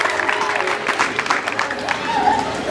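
Audience clapping in a hall at a career guidance event at St. Mary's Ediofe Girls Secondary School, brief lively applause mixed with crowd voices and a speaker talking over it.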